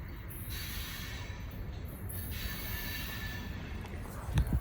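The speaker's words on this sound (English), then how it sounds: "That was a pretty good train." A 34-car Cincinnati Eastern Railroad rock train rolls past at steady volume, a continuous broadband rumble of freight cars with wheel noise and a couple of sharp knocks near the end.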